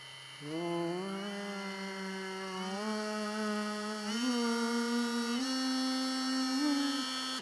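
A Ryobi rotary tool whirs steadily as it spins up toward 20,000 RPM, its motor whine climbing in steps to a high, constant pitch, close and loud with no talk over it.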